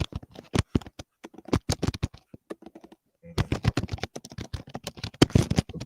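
Keyboard typing picked up over a voice chat, a rapid run of sharp, irregular clicks that breaks off briefly before resuming just as fast.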